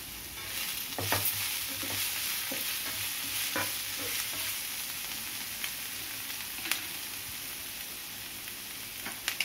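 Veg Manchurian being stirred in a frying pan, with a steady sizzle of hot oil and scattered scraping clicks of the spoon against the pan, close up, with no talking.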